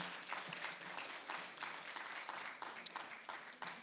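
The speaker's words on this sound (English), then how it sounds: "So give cross country a nice round of applause" Audience applause for a school's cross country team at a fall sports awards ceremony, a steady wash of many hands clapping at moderate distance, continuous through the moment with no voices standing out.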